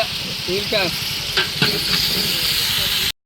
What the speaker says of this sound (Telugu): లెవర్ ఫ్రై చేసేది మొత్తం నేను